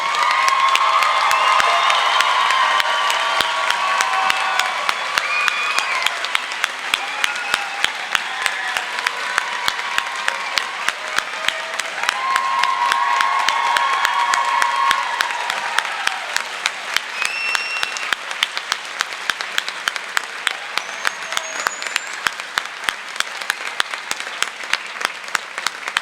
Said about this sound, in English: we're going to super clap for you